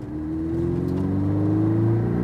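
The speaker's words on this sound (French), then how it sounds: "Vas-y, accélère." A Porsche Cayman accelerates hard on a race circuit, its engine note rising steadily and loud throughout, close and continuous, with no talk over it.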